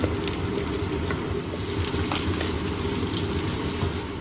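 Mustard, fennel and fenugreek seeds frying in hot oil at the start of a prawn curry, a dense, loud, steady crackling sizzle close up, with no talking.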